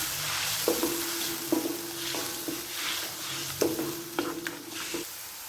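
Ground onion paste sizzles in hot oil while a spoon or spatula repeatedly scrapes and taps the pan in an uneven rhythm, close and clear.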